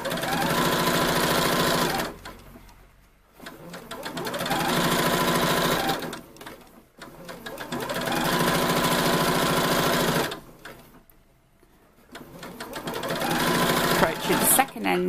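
A domestic sewing machine runs in steady bursts of a few seconds each, stitching shirring elastic into fabric, with brief pauses between runs and a loud, close, whirring mechanical drone.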